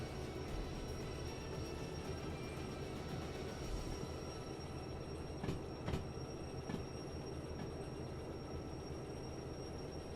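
Train wheels squeal steadily in Derail Valley, a railway simulator, a continuous metallic rolling rumble with faint high squealing and a few sharp clanks, moderately loud and alone without talk.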